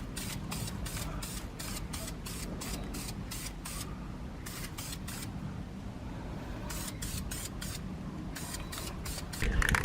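Spray paint applied to car brake calipers in short repeated bursts of hissing, close and fairly loud, with brief pauses between passes and no talk.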